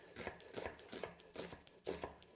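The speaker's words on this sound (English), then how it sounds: "rock through the onion till you get to about here" A chef's knife rocks through an onion on a cutting board, making about five soft, rhythmic chopping thuds in quick succession, close and fairly quiet.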